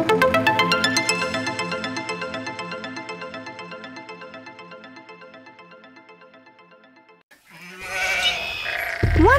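Sheep bleating in an animated children's story, with a loud, repetitive tonal musical passage for most of the clip followed by a brief bleat at the end.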